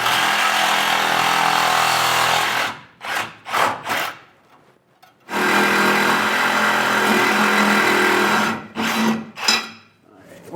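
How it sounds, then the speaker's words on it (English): A Sawzall reciprocating saw cuts metal under a vehicle during rear air helper spring installation, loud buzzing strokes in two long bursts separated by short choppy starts and pauses. "get it out of the way for the Sawzall as I'm cutting it"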